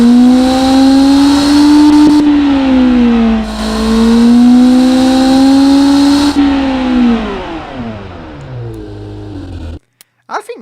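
A custom GT car engine with huge exhausts revs hard in a video game, a loud sustained tone rising and falling through several rev swells before winding down and cutting out.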